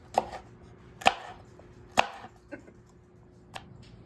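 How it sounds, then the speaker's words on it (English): A knife chops jalapenos on a cutting board in a few sharp, separate strikes, spaced about a second apart, close and otherwise quiet. "Let's start chopping up these jalapenos."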